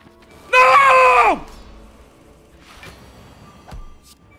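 A man on a game stream lets out a loud, strained scream imitating Tobey Maguire, one sustained, wavering cry lasting under a second, then dropping away into quiet room noise with a couple of faint knocks.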